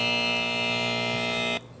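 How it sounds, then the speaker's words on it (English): A game show buzzer, one loud, sustained flat electronic drone lasting about a second and a half that cuts off abruptly, with no talking. "We're waiting for something. A buzzer."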